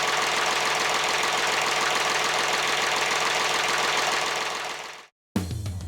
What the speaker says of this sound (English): run the engine